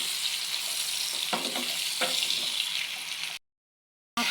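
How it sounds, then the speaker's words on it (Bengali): Shrimp heads fry in spice paste in a pan, giving a steady loud sizzle with a few stirring scrapes. The sizzle cuts off abruptly near the end, leaving a short silence. "চিংড়ি মাছের মাথাটা এখন সুন্দর করে ভুনা করে নেব।"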